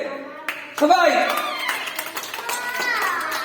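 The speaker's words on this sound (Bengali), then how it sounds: "সীমার জন্য একটা হাততালি দে" Children clap their hands together in a classroom lesson, a burst of several quick claps mixed with voices and a teacher speaking throughout.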